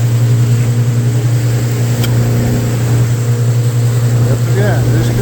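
A boat engine drones steadily and loudly at sea off Tromsø in Arctic cold while cod fishing, with a constant low hum and wind noise and no break in the sound.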